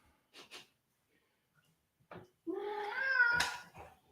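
A rescue cat meows in a long, rising and falling call that swells loud near the end, after a couple of brief soft sounds, with no talking.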